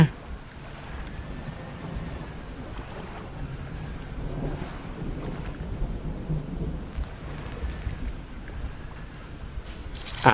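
A boat engine in the fishing game Dredge gives a continuous low rumble, blended with windy, rain-like stormy noise that stays steady throughout.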